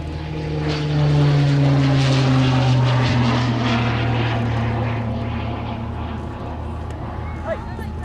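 Propeller aircraft taking off at an air display, a loud droning engine whose pitch slides down as it passes and fades, with a commentator talking over the outdoor noise.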